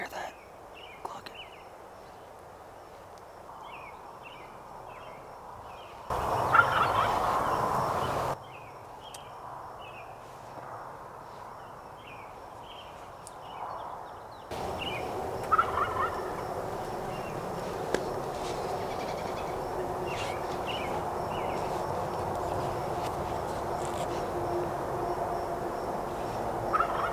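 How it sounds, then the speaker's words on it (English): Wild Merriam's turkeys in Washington cluck in an evening woodland, with soft, scattered, fairly distant calls repeating through a quiet background; a louder burst of rustling noise intrudes briefly and the ambience thickens later on. "can you hear that clucking?"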